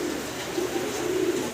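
High flyer fancy pigeons coo softly at a pigeon seller's, a low murmuring, bubbling coo repeating a few times over steady background hiss.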